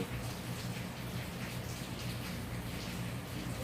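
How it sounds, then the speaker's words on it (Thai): Rain falls steadily in Korea, a dense, even hiss of drops hitting surfaces nearby, constant and fairly loud throughout with no voices. "วันนี้ที่เกาหลีฝนตกนะครับ"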